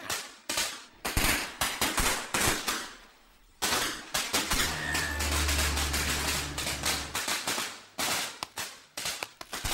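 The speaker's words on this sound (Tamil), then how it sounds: "இந்தாங்க பட்டாசு, வெடிங்க." Firecrackers go off in a 2005 Tamil film scene, with sharp loud cracks bursting in rapid irregular volleys, pausing briefly before resuming, and a low droning sound underneath partway through.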